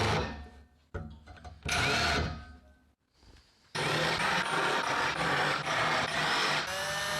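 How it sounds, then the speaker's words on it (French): Power tool deburring drilled holes in a metal shelf on a wood-and-metal workbench, loud whirring bursts with a short stop and restart, then a long steady grinding run close by. "Je prends le temps d'ébavurer les trous."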